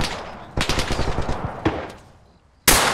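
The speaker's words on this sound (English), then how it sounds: "I love the sound the bolt makes as well when you rack it" A sniper rifle is fired in a game and its bolt is racked: sharp loud reports and a burst of rapid clattering cracks, then a fading tail and another abrupt blast near the end.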